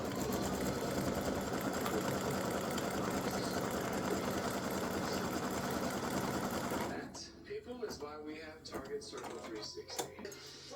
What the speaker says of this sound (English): it's going to go and stitch the center of the buckle.